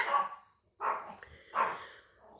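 A dog barks three times at evenly spaced intervals, each a short, fairly loud bark heard from a short distance indoors, with quiet gaps between them.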